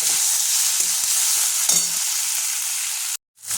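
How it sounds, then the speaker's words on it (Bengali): Chopped garlic with tomato sizzling in a pan, a steady bright frying hiss with a few soft stirring scrapes, close and continuous before a brief sudden drop to near silence at the end. "দিয়ে দেবো রসুন কুচিটা। এটা একটু ভাজা ভাজা করে নেব।"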